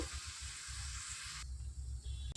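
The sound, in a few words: onions frying in a pan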